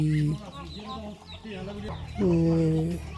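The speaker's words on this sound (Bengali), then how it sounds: "এই যে মুরগি বসছে ডিম পাতে" Hens clucking close by in short, repeated bursts, with a fuller, louder cackle near the end, as a hen settles to lay eggs.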